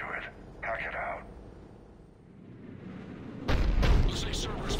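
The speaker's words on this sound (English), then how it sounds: "Looks like Cerberus got that cannon operational, Commander." A heavy cannon fires in Mass Effect 3, a loud booming blast with a rumbling tail late in the sequence, following radio-style voices talking over low background rumble.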